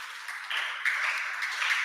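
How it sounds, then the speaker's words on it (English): Light applause from a small group at a junior high school final project presentation, thin scattered clapping that swells slightly partway through and stays fairly faint. "Give applause, everyone."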